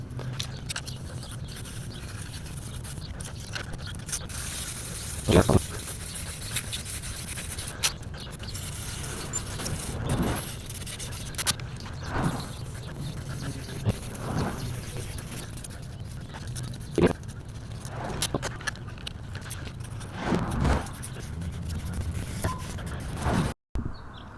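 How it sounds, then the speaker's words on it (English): Aluminum foil scrubbing rust off Fiskars grass shears, a steady faint scraping and rubbing texture with occasional clicks and creaks of the metal blades, continuing without speech. "I'm just using a simple household item, some aluminum foil, and this is a very cheap way to remove rust off of metal."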